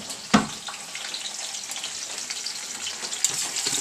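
Onion fries on high heat for Chamorro chopsteak with a bright, continuous sizzle. One sharp clatter of stirring comes near the start and a lighter knock comes later. No one speaks.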